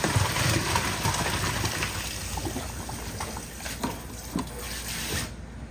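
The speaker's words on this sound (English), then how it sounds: "Just gonna keep tossing the broccoli in the butter sauce." Broccoli being tossed in a pan of butter sauce, giving a steady wet sizzle and slosh that runs close and fairly even throughout, with no talking.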